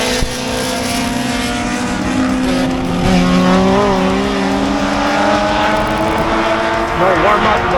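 Race cars lapping Pocono Raceway at a track day, a steady loud engine drone with rising and falling pitch as cars pass close by, continuous throughout with a voice talking over it.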